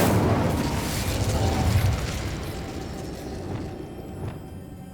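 An Incendio fire spell cast in the video game Hogwarts Legacy bursts out as a loud, booming whoosh that rumbles and then fades over a few seconds into quieter game ambience.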